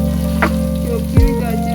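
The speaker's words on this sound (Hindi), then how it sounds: "लहसुन अदरक हमारा हो गया फ्राई। जाएंगी गाजरें," Chopped carrots dropped into hot oil with already fried garlic and ginger, giving a close, steady sizzle with a brief clatter of vegetables hitting the pan.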